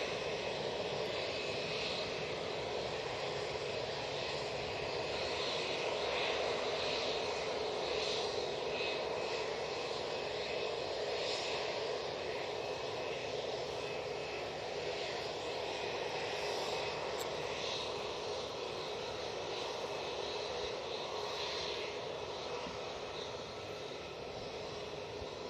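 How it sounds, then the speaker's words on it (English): An SAS Airbus A320neo jet departs Manchester Airport for Stockholm, a quiet, distant, steady engine roar with a whining tone that holds throughout and eases slightly at the end. "Off to Stockholm with this 320neo."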